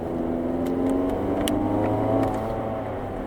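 A 2022 Hyundai Elantra N with a dual-clutch gearbox accelerates hard from inside the cabin, its engine note climbing steadily in pitch through a short, strong pull with faint road whir underneath.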